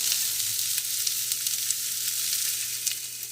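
Onion and green pepper fry in oil in a pan for ackee and saltfish, a continuous close hiss of sizzling with faint crackles and no talking.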